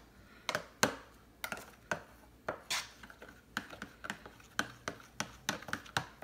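Eggs, milk, greens, salt, pepper and dill mixed with a utensil in a plastic microwave egg container, a quick irregular series of sharp tapping clicks against the container, close and fairly quiet, with no talking.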